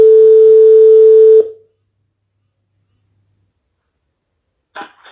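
A loud, steady telephone dial tone holds for about a second and a half before cutting off into silence, followed near the end by a brief muffled noise.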